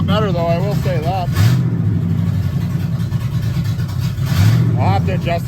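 Station wagon engine idling and revving after cylinder head gasket and engine mount replacement, a steady mid-pitched hum close by with a voice talking over it.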